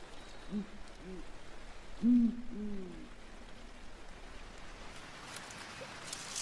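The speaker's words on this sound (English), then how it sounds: "The adult Blakiston's owls stalk the river near their nest, close enough to keep an eye on the chick." Blakiston's owls hooting at night near their nest by a forest river, several deep low hoots in a short paired sequence, moderately near over quiet night ambience.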